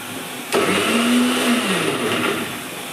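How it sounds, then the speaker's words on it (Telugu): A kitchen mixer grinder blending gongura chutney starts abruptly with a sharp click, then whirs steadily at a high motor pitch for a couple of seconds before winding down, close and fairly loud. "గోంగూర చట్నీ మిక్సీ వేస్తున్నాను."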